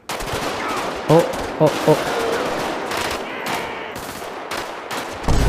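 Rifle gunfire in GTA 5 cracks out in a few sharp single shots over steady background game noise, with louder bursts near the end and scattered fainter pops between.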